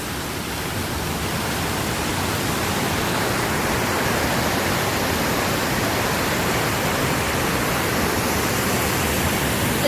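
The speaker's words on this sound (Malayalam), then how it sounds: "നമ്മൾ ഒരു വെള്ളച്ചാട്ടത്തിൽ വന്നു" Rushing water at a waterfall, a steady loud broadband roar filling the whole stretch without pause and no voices.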